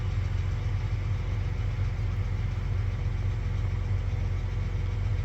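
A backup farm tractor's engine runs at a steady idle on a hay job, giving a continuous low, rumbling drone that stays even and close for the whole stretch, with no talking.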